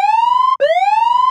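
A synthesized siren built in the Vital synthesizer with a saturator and EQ. The tone glides up and then holds, briefly cuts out, and sweeps up again. It is loud and clean, with a bright harmonic stack and a fast wobble, and plays alone.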